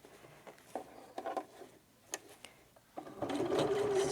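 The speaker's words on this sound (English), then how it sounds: "This is where it's nice to have a sewing machine with the needle up, needle down function" A sewing machine stitches a tote bag in short, close bursts of rapid mechanical whirring, building to a sustained run of stitching at the end, with quiet handling sounds in the pauses.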